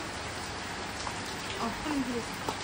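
Steady rain falls in a continuous broadband patter with faint voices murmuring briefly in the background.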